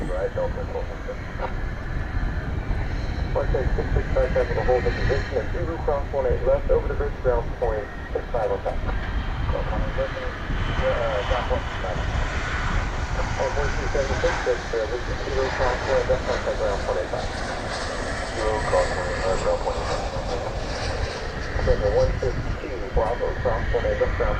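Airbus A321neo jet at DFW Airport, a steady broadband engine roar held for the whole stretch, moderately loud and continuous with no clear rise or fade.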